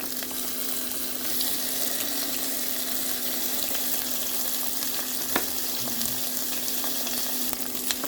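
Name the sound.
onion frying in olive oil in a cooking pan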